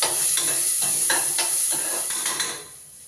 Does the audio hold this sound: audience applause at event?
no